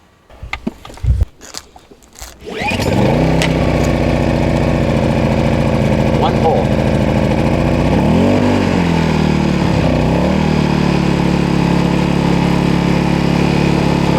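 A small AIvolt portable inverter generator engine sputters to life after a brief rattle, then settles into a steady, even idle with a slight dip in pitch partway through; a short remark comes first.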